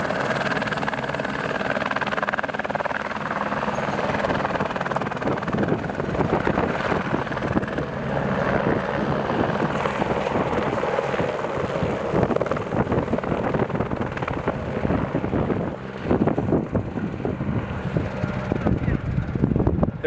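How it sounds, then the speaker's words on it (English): A rescue helicopter leaving Mount Kilimanjaro after evacuating porters: a steady rotor thrum and engine whine, loud and close, buffeted by wind noise, with voices speaking beneath it. "l'hélicoptère est parti."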